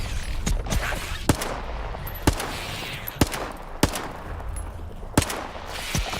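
Pistol shots ring out in STALKER 2, about eight sharp single cracks spaced irregularly over a constant background rumble, close and loud with no talk between them.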